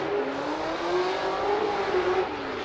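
A Nissan Silvia S15 drift car on Nitto tires revs hard at a Formula Drift event in Long Beach, a loud, sustained engine whine that rises and falls slightly, heard at a distance over crowd and track ambience.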